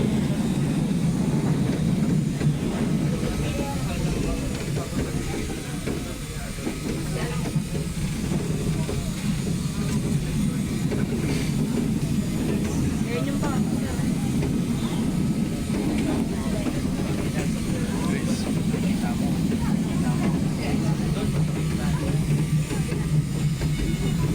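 A constant low rumble of an LRT light rail car in motion approaching Central Terminal, with rattles and faint rhythmic clacks, and voices talking over it throughout.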